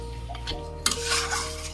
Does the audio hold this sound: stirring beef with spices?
yes